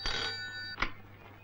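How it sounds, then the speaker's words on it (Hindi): An electronic telephone bell rings in an indoor room, one sustained buzzing trill, then a short second burst after a brief pause, moderately loud over a low steady hum. "तुम्हारा फोन।"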